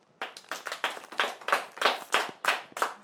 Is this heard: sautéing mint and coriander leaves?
no